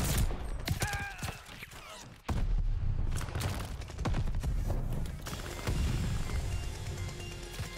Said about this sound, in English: this gun's loud, bro. This gun is loud. It's a Marksman rifle, but because it's a battle pass variant that has a full auto barrel attachment